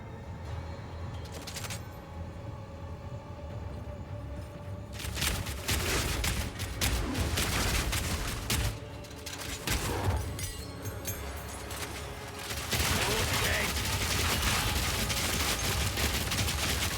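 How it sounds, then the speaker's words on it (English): A character fires downward at the ground in Path of Exile 2, producing dense bursts of rapid gunfire with shattering impacts, quieter at the start, then heavy volleys from about five seconds on with brief lulls. "I like how he's shooting downwards so much, like pointing at the ground"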